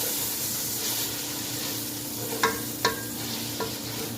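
Ginger garlic paste, two tablespoons, frying in a pot while being stirred as mutton paya is cooked, giving a steady soft sizzle with a few sharp scraping clicks of the spoon near the end and no voices.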